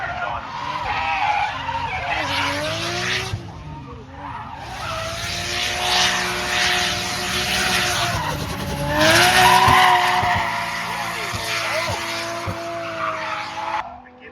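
Drift car skidding sideways at a drift event, tires squealing loudly and continuously with a droning engine pitch that rises and falls, swelling around the middle, while a commentator talks over it.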